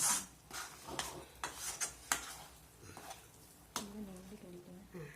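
Sorrel leaf thokku in oil is stirred slowly in a pan, with soft scraping strokes and occasional utensil knocks over a low sizzle. A voice is heard briefly.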